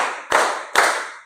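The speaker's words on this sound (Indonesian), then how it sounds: "Tepuk 3 kali." Two sharp, loud hand claps about half a second apart, close by in a classroom, each a bright burst that decays quickly.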